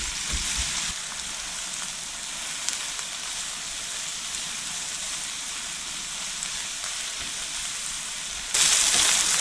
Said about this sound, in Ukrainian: Додаю цибулю і буду обжарювати до м'якості і злегка жовтого кольору.